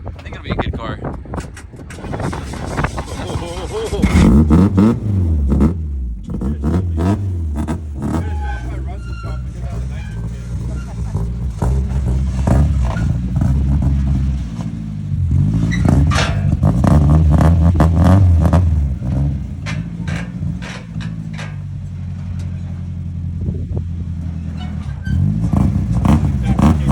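A car engine revs and pulls away, pitch climbing as it accelerates, loud and close, with people talking over the motor.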